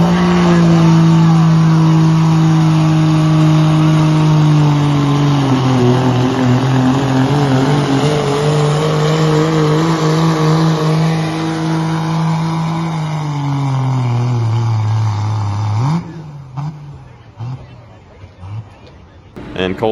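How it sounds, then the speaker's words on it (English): A first-generation Cummins diesel sled pull truck from Kentucky with a VE injection pump runs hard on a dyno, a loud sustained engine roar that drops in pitch near the end before cutting to quieter rumbling. "Alright guys, so we are back on the dyno, and we have Colts truck here today"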